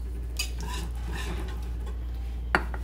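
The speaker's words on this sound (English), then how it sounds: "You have to just keep stirring. You can't stop stirring." Cheese sauce for Jamaican rasta pasta stirred in a pot, with soft scraping and clinks of a utensil against the pot under a steady low hum, and a sharper knock near the end.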